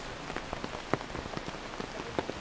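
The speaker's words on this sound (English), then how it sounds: "Ma, bamboo! Ma, pouring rain! Wet, slippery." Pouring rain patters densely on surfaces around a bamboo-supported hanging bridge in Bohol, a steady close hiss of drops with scattered sharper splats and no voices.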